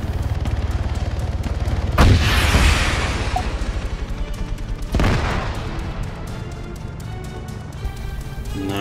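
Rocket launcher fire in the Arma 3 video game: two loud, sharp booming blasts a few seconds apart, each followed by a rushing, decaying tail over steady background battle noise.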